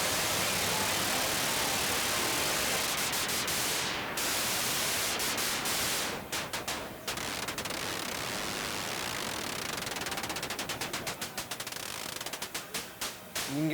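Broadband hiss from the noise source of a Buchla 208c synthesizer, loud and steady throughout, broken by brief dropouts and clicks as cables or settings change, with faint talking underneath.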